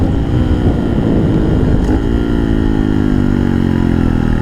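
A 2019 Honda Monkey motorcycle with a 14-tooth front and 36-tooth rear sprocket runs at top speed, its engine droning loud and close with wind roar, revs easing down toward the end.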